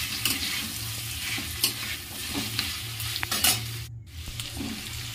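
Potatoes fry in a pan at the start of a chicken stew, a steady sizzle broken by scraping stirs and soft clinks of the spoon, close and continuous.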